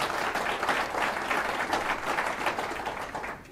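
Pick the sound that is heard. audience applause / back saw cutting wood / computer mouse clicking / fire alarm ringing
audience applause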